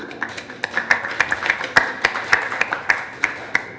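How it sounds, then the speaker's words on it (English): A small audience at an Asian Le Mans Series press conference in Buriram claps for an LMP2 driver, a thin scattering of individual claps in an irregular rhythm, close and clear, with a faint tone running underneath. "we'll give him the applause due"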